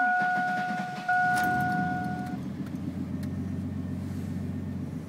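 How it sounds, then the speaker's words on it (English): A 4.3L/5.7L Vortec V6/V8 with a modified throttle blade starts after a brief chime, cranking and catching into a steady low idle that continues to the end. "First startup with the new throttle blade."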